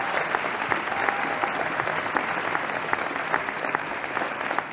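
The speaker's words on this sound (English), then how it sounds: "So one last round of applause for the 2021 Poets and Quants Dean of the Year." An audience applauds the Poets&Quants 2021 Dean of the Year at a celebration, steady sustained clapping with distinct claps standing out from a dense even wash.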